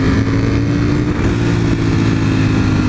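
A Ferrari's engine roars loud and close as it passes, a sustained, rumbling drone with a strong low hum and a steady revving tone, with no talking.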